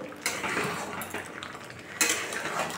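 Metal spoon stirring garam masala into jackfruit dal in a cooking pot, a steady run of scraping clinks and clatters with a sharper burst near the end, close and without talk.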